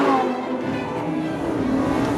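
A Lamborghini Huracán's normally aspirated 5.2-litre V10 roars steadily for about two seconds, loud and close, with a dense harmonic engine note and no talk.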